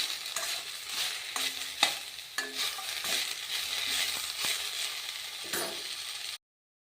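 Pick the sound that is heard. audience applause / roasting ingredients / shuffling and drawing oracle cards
roasting ingredients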